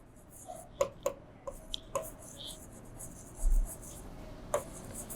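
A pen scratches across paper in short strokes and taps, close and soft, with pauses between the marks and a quiet background.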